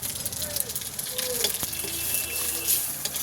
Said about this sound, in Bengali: এতে রাঁধুনি, পাঁচফোড়ন, শুকনো লঙ্কা তিনটেই কিন্তু ফোড়নে দিয়ে দিলাম।